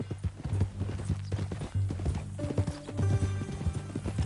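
Steady clip-clop of horse hooves in the video game Red Dead Redemption 2, a rhythmic clatter of hoofbeats close by, with a few sharper tonal accents partway through.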